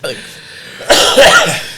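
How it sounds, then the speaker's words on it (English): After a quiet moment, someone coughs loudly and close up in a couple of harsh bursts. "There's a lot of coughing going on."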